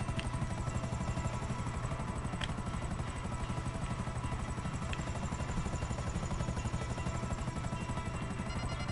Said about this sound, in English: they're no match for my military helicopter